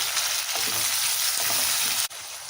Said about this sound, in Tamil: தக்காளி நல்லாவே வதங்கிடுச்சு